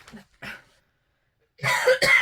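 Two short coughs close up, a brief pause, then two more harsher coughs in quick succession.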